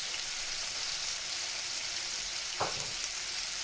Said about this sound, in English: Fry finely chopped onions until soft